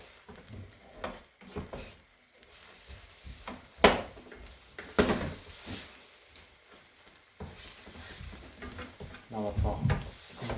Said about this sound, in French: vous pouvez ouvrir comme ça votre omelette, comme ça cuit plus vite